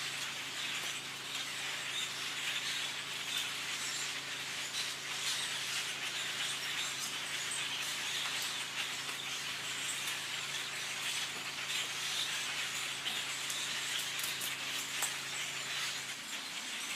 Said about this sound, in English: Red-winged blackbirds, maybe? Some kind of blackbird, possibly? Can you hear them all?